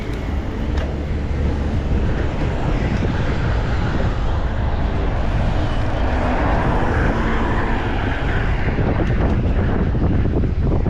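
Strong headwind buffets the microphone on a July drive along the Crimean coast near Sudak, a constant loud low roar and rumble filling the whole stretch without a break.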